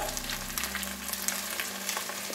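Potatoes and onions frying in a pan with ginger paste, salt, cumin and chili powder for a fish curry, giving a steady close sizzle with light crackles throughout and no talk.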